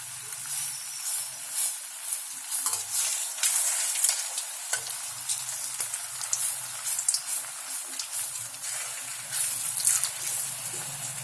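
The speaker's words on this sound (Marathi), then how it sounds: "त्या पद्धतीने त्यांना छान खरपूस तळून घ्यायचं, भाजून घ्यायचं" Potato vadas (batata vada) deep frying in hot oil, a continuous crackling, bubbling sizzle that stays steady and fairly close for over ten seconds, with no talking.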